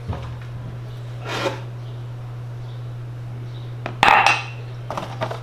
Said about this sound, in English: So I'll get my cup out.